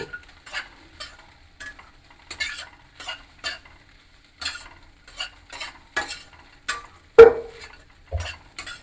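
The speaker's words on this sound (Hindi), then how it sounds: "इसको जब मैं थोड़ी देर मिक्स करूँगा" Poha being mixed in a pan, with a spoon scraping and tapping the metal in irregular close strokes separated by quiet gaps, and one sharper clank partway through.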